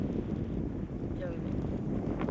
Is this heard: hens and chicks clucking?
no